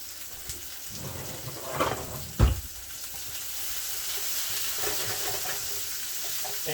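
Onion sautéing in a pan with a pinch of salt for couscous, a steady crackling sizzle with a couple of louder clatters from stirring, close and alone.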